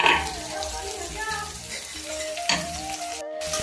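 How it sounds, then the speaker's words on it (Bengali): Chopped onions hit hot oil for a mutton curry, sizzling and crackling steadily with a few bursts and stirring scrapes, fairly close and loud, briefly dropping out near the end. "এখন কেটে রাখা পেঁয়াজগুলো দিয়ে দেবো।"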